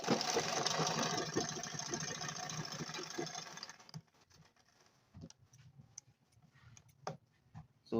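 A sewing machine runs in a steady, fast buzzing burst as it stitches a welt back pocket, then stops, leaving faint clicks and small handling noises nearby.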